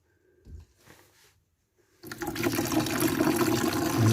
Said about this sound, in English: Not a lot of water coming out there at all.